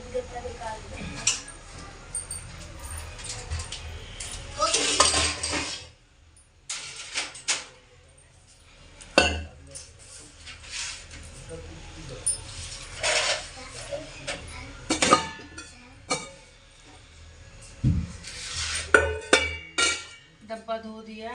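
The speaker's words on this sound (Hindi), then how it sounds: "डब्बा धो दिया, इसको पोंछूंगी, जो खाली हो जाता है उसको धो देती हूँ।" An empty container and dishes are washed by hand in a home kitchen, with scattered clinks and clatters of pots, lids and utensils between quiet gaps as someone talks.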